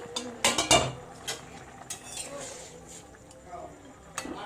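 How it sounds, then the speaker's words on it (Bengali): A lid coming off a pot of katla fish curry cooking with potatoes and ridge gourd: a cluster of metallic clinks and clatter early on, then softer scattered knocks, with a voice speaking over it. "ঢাকনা খুলে দেখি"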